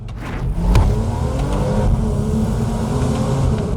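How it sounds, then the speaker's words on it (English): A 2011 Porsche Boxster S engine rumbles steadily with a throaty exhaust note, revving slightly, close and loud throughout. "that soundtrack releasing the hellhounds of Bavaria through your Porsche exhaust system"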